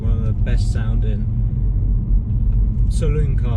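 Deep, steady exhaust rumble of a BMW M3 saloon, continuous and fairly loud, with someone talking over it at the start and end.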